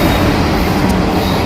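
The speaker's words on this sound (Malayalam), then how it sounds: "ഈ ട്രെയിൻ നോർത്തിൽ നിന്ന് സൗത്തിലേക്ക് യാത്ര ചെയ്യുകയാണ്." A train runs north to south through the southern Trivandrum area, a loud, close, continuous rumble of wheels on rails filling the whole moment with no talking.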